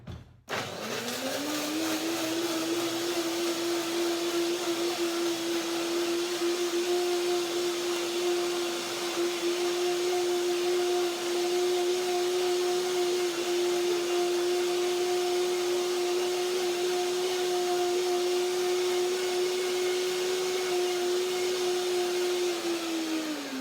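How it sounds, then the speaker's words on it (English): A blender whirring steadily as it breaks down cashews, sesame seeds, chili and water into a creamy salad dressing, a loud continuous motor tone from start to finish with no talking. "The first blending, to break the ingredients down, the cashews and the sesame seeds, they need a little bit more blending."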